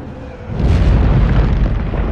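A loud, deep film explosion booms, swells after a brief pause and keeps rumbling heavily to the end as an avalanche follows, with no voices.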